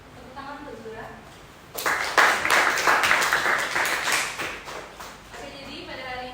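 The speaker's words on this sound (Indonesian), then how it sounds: "Tepuk tangan untuk Zura" A class of students in a classroom claps together in a burst of applause lasting a few seconds before it tapers off, with a teacher's voice speaking just before and after.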